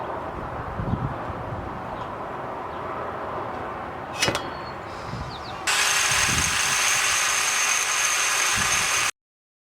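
Cordless drill working on a turbo manifold for a BMW E28 turbo build, with scattered workshop clatter and a brief sharp clank, then the drill whirs steadily and loudly for several seconds before stopping abruptly.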